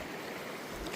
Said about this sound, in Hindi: ये दोस्तों नदी है, एकदम क्रिस्टल क्लियर पानी बह रहा है।